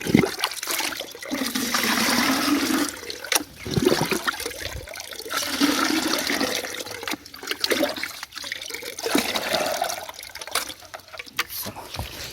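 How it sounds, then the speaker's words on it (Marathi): Water poured onto plants in a Konkan coconut garden, a steady rushing gush that swells and stops in several bursts, with brief pauses and small splashes between. "चला घालू पटापट पाणी."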